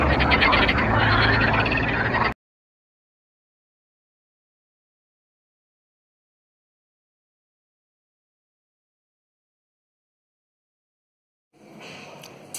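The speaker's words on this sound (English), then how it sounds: "Frogs in Lankaran, a sign that it's a very healthy river ecosystem." Frogs croak densely by a river in Lankaran, Azerbaijan, a loud chorus for about two seconds before cutting to silence, with a faint burst of sound returning near the end.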